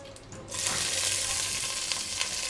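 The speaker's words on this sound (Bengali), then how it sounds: "বাদাম আর কিশমিশটা একটু ভেজে নেব" Nuts and raisins frying in hot ghee in a pot: a steady, dense sizzle with a hiss, starting quieter and swelling loud after a moment, then holding continuous without talk.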